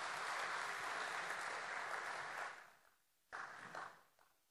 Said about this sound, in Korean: 우리 다시 한번 하나님 아버지께 영광의 박수 올려드리겠습니다